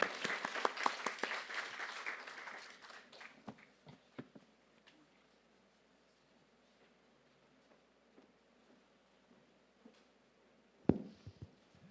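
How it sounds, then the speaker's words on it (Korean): A church congregation at a conference night service gives brief applause to glorify God, clapping strongly for about two seconds and then fading into scattered claps, quiet rustling and near silence, with one sharp knock near the end. "우리 하나님께 감사 영광의 박수 드리겠습니다"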